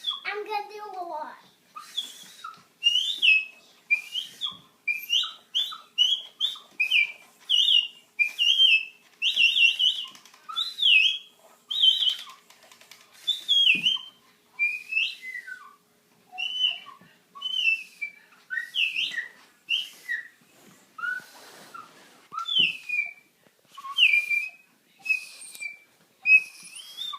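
A handheld loon call whistle blown repeatedly by hand gives a long series of rising, wavering whistled wails and yodel-like notes, close and clear, with brief pauses between calls.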